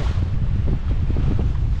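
A sailboat under sail with its engine off on the Gambia River, wind buffeting steadily and loudly across the microphone with low rumbling gusts, no voices.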